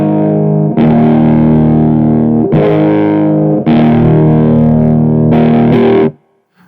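Four strummed, distorted electric guitar chords with the guitar's tone knob rolled off ring out with a dark, muffled tone, heavy in lows and mids and lacking bright top end.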